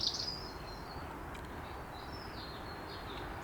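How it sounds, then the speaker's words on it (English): Faint bird chirps and whistles drift in and out over a steady outdoor rumble, distant and sparse rather than a full chorus. "Listen to the birds"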